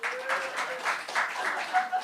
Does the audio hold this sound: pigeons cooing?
no